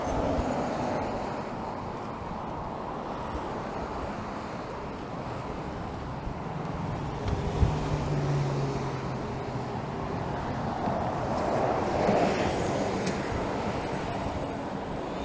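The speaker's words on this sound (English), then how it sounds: "I'm walking directly into a pretty fierce wind." Fierce wind buffeting the microphone while walking along Kennedy Road in Scarborough, Toronto, a constant loud roar with low rumbling gusts and faint street noise beneath, no talking.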